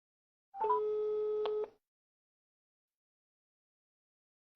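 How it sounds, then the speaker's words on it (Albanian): A single steady telephone busy tone sounds for about a second on a call to a subscriber whose line is engaged, then the line falls silent, with a faint click at the very end. "Abonenti që keni telefonuar është i zënë"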